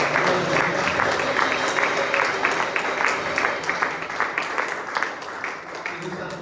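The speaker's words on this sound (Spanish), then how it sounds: "Pues dale un aplauso al Señor." A church congregation at an evening men's gathering claps steadily for several seconds, a dense, even wash of many hands with voices mixed faintly underneath.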